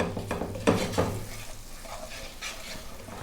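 Onions and garlic sizzling gently in a pan while being stirred, with soft scraping strokes and a low, steady frying hiss, close and fairly quiet.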